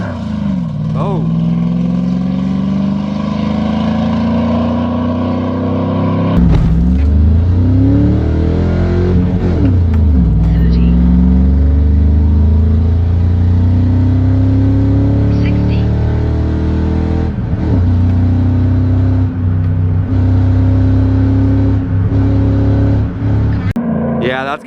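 A car with a stock 5.3 V8 accelerates hard on a street run, its engine note loud and close, revving up, dropping sharply as it shifts gears, then climbing again; a voice talks briefly over it.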